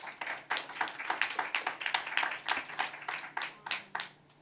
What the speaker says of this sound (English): Let's give a warm round of applause to Veronica, please.